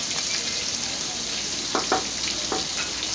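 Whole spices, black cardamom, cinnamon pieces and white cumin sizzle steadily in hot oil for aloo matar pulao, a continuous frying hiss with a few brief crackles and stirring clinks, close and alone.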